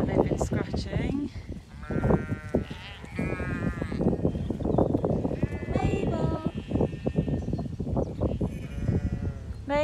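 Sheep bleat repeatedly and loudly in a farm flock at worming time. Several overlapping calls come close by, mixed with rustling and movement. A person talks at times under the animals.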